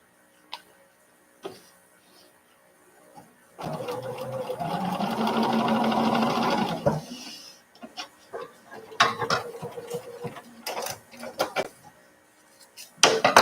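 A sewing machine runs in one steady burst of rapid stitching over tiny fabric pieces, loud and close, followed by scattered clicks and handling taps.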